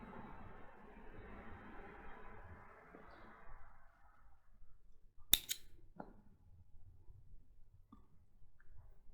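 Scissors snip through knitting yarn in one sharp, close cut, followed by a few faint clicks, after a stretch of soft rustling handling noise.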